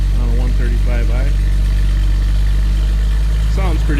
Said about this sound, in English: Here's a stock BMW exhaust on a 135i.